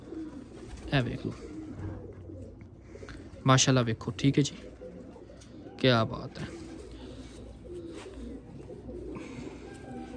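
Pakistani flying pigeons coo softly in the background while someone talks over them in short bursts, the cooing a low continuous murmur between his phrases.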